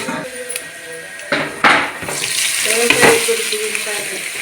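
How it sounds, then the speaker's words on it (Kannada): Grated raw plantain tipped into hot oil already frying cumin, urad dal, chana dal and peanuts, a loud close sizzle with stirring clatter and a couple of sharp knocks against the pan. "ಈಗ ಇದಕ್ಕೆ ನಾನು ಬಾಳೆಕಾಯಿ ಹಸೆ ಬಾಳೆಕಾಯಿಯ ತುರಿಯನ್ನು ಹಾಕ್ಕೊಳ್ತೀನಿ"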